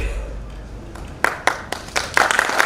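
An audience at a Hindi poetry gathering marking Akhand Bharat Smriti Diwas starts to clap. After a quiet opening, a few scattered claps come in and build into loose, uneven applause from a fairly small crowd nearby.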